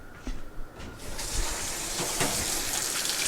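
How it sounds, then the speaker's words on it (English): A kitchen tap runs steadily for hand washing, a close, even rush of water that starts softly and swells to a constant flow after about a second, with a few light clatters at the sink. "I'm just going to wash my hands."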